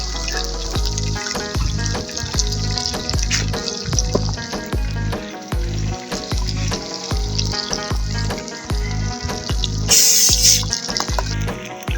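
Fish sizzling in a frying pan outdoors in a forest while cooking with friends, a steady close crackle and hiss under a loud pulsing rhythmic beat.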